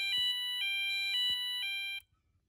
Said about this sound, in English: This is what a siren in Europe might sound like.